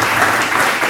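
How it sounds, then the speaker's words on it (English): An audience breaks into dense, steady applause for volunteers at a nature center, a brief burst of clapping with no voices over it. "So a big round of applause to you volunteers."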